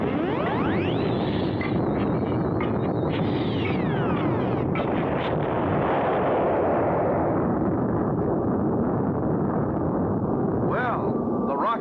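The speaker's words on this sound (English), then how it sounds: "Rocket got off, but will it really fly?" Cartoon rocket launch effect, a loud sustained roaring blast with rising whistling tones, continuous throughout with a brief high whine near the end.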